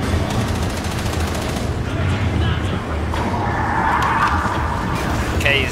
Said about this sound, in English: Okay, he's definitely shooting that gun.